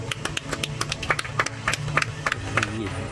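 Scattered audience applause at a crocodile show in Langkawi, a steady patter of many hands clapping close by for about three seconds.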